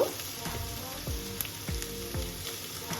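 Onion hitting hot oil with lightly browned crushed garlic, a steady close sizzle with a few sharp crackles and soft stirring knocks, no voices.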